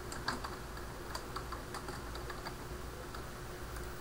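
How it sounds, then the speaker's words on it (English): Typing on a computer keyboard into a search bar: quiet, irregular key clicks tapping in quick runs with short pauses, heard alone against a faint steady background hiss. "In the search bar, I'm going to type in Windows 7 Codecs."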